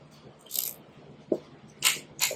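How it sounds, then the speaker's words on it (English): A torque wrench tightens a TorqueBox mounting bolt, producing several short, sharp metallic clicks at uneven intervals, close and fairly quiet, with no talk. "Now I'm going to go ahead and pull this bolt until I get a click."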